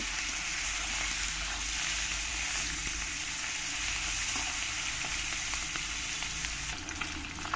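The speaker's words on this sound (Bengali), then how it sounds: "আমি এরকম অল্প অল্প করেই মাছগুলো সব ভেজে নেব" Large pieces of rohu fish frying in hot oil, a dense continuous sizzle and crackle holding steady throughout with occasional faint clicks, close and alone.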